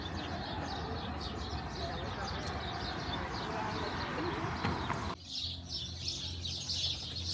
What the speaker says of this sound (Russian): Звуки именно воробьев.